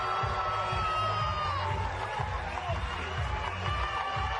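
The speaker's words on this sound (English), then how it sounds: "The Brazilian fans who've made the long journey in the crowd go wild" At a women's beach handball final, Brazilian fans cheer and whoop wildly after their team beats Argentina, loud and continuous crowd roar with scattered high shouts throughout.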